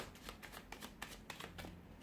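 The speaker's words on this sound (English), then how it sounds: "We'll give the cards a shuffle and see what they predict for you this coming month." Tarot cards being shuffled by hand, a soft, close riffle of repeated papery flicks and slaps in quick uneven rhythm, quiet and alone without talk.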